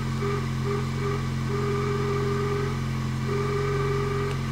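Steady whine and drone from the power steering pump of a 1999 Toyota Corolla 1.8 with a fault, a loud continuous tone heard up close with a few wavering pitch bands over the engine hum, no speech.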